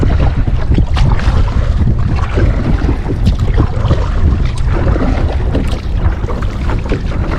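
A kayak moves at sea off Tybee Island, Georgia, with steady wind buffeting the microphone and water sloshing and splashing against the hull throughout, and faint paddle strokes mixed into the constant rushing noise.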